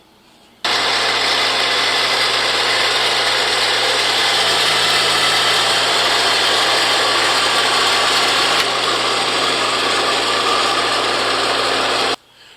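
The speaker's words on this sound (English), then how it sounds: "So I'm going to use the tractor, scoop this out" A tractor engine runs steadily and loudly close by while its bucket scoops dirt for bedding sweet potatoes, a constant droning rumble that starts abruptly and cuts off near the end.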